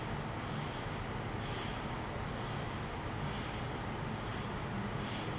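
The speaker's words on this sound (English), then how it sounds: "Now blow the air from the nostrils" Rhythmic, forceful exhales through the nostrils during pranayama breathing practice, repeating about every two seconds in a steady, breathy series, close and fairly loud over a constant low background hum.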